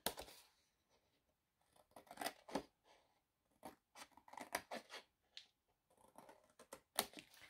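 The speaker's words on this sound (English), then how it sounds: "we're simply going to cut along the score marks just like we did before" Scissors snip through scored cardstock in short bursts of crisp, close cuts, separated by brief pauses, while making an easel card with a drawer.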